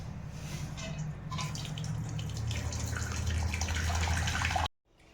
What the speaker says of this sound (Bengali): এবার আমি নিম পাতাকেও ছেঁকে নেব